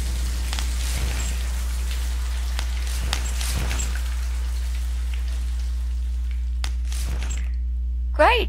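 Water sprays from a pipe pulled off a wall in the video game The Cat Lady, a steady hissing rush with scattered drips and taps, continuous at moderate level with no speech.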